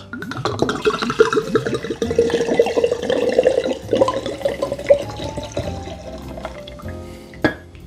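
Alcohol poured from a 500 ml bottle into a jar to macerate vanilla for homemade liqueur, a steady close glugging liquid stream for about five seconds, then a few faint clinks and handling knocks.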